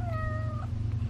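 A cat gives a short, rising-then-falling meow close by, over a low background hum.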